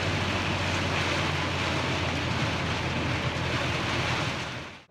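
Light rain patters during a drive through Chumphon, Thailand, a steady broadband hiss of drops and road noise that stays even and close throughout before cutting off at the end.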